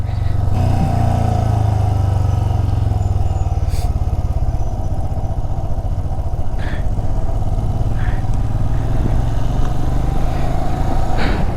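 A motorcycle runs along a frightening Ladakh mountain road with hairpin bends, its engine drone steady and loud beneath a rough clatter and wind rush throughout.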